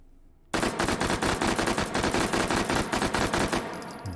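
An H&K MP5 submachine gun fitted with a muzzle brake fires rapid paired shots in the game H3VR, a loud, dense run of evenly spaced reports after a brief quiet start, ending with a short tail.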